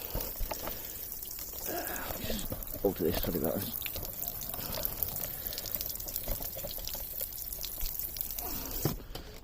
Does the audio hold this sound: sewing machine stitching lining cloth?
no